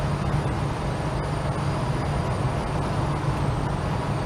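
Holden HK car coasting along a road at speed, a steady low engine and road rumble with a faint hum, continuous and even throughout.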